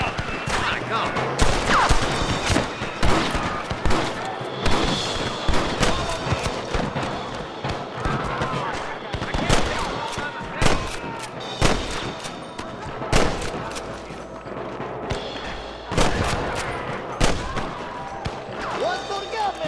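A shootout in Red Dead Redemption, with repeated loud close gunshots cracking in irregular bursts and scattered single shots, while voices shout in between.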